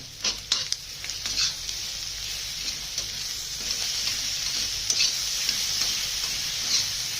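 A crushed paste of green chilies, garlic and cumin fries in a spoonful of oil, giving a bright, hissing sizzle. Occasional stirring scrapes and small pops sit on top at close range.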